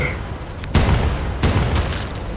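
Two heavy blasts of a video game explosion, less than a second apart, over a constant noisy rumble of background sound.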